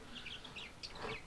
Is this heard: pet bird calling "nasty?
yes